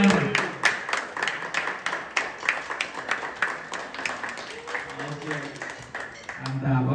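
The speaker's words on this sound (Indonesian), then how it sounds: "tepuk tangan buat Mas Gilang Ramadan" Audience applause for drummer Gilang Ramadan at a Zildjian Day event in Bali, a crowd clapping with distinct repeated hand claps for several seconds, fairly loud and close, settling toward the end.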